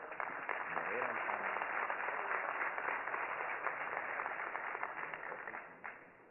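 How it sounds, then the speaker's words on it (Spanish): Audience applause for Senator Ángel Benjamín Robles Montoya at a panel event on sustainable development and economic zones. Dense, steady clapping holds for about six seconds, muffled and band-limited with some voice mixed in, then fades slightly at the end. "Demos un fuerte aplauso al senador Ángel Benjamín Robles"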